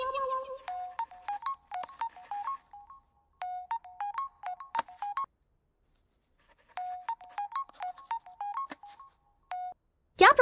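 A mobile phone ringtone plays a repeating melodic tune in three bursts separated by short pauses in a scene from a romantic South Indian film, fairly quiet, with a brief sound at the very end.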